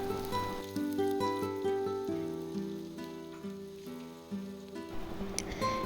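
Thinly sliced shallots frying in hot oil, a soft steady crackle and sizzle running throughout at low level, with faint clinks of utensils and no talking.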